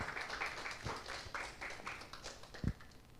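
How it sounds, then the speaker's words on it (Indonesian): Scattered claps and taps from a modest audience greet a webinar host being introduced at an Indonesian company event, irregular and fairly quiet, with one sharper louder knock near the end. "Kita berikan tepuk tangan yang meriah"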